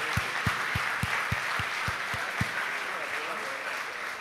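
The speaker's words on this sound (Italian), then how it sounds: "Un bel applauso." Applause from a crowd fills the space, steady clapping throughout, with a series of low regular thumps in the first half.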